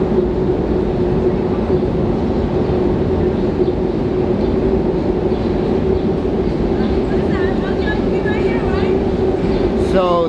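A train passes in New York City as a loud, continuous rumble with a steady hum lasting the whole stretch, a few squeals near the end, and people talking underneath.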